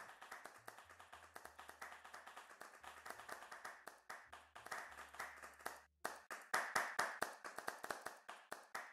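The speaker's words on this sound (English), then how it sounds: "And another round of applause." Applause after a presentation at a live online talk, with a small group of hands clapping steadily and close, in a dense rapid patter that grows louder toward the end and has no talk.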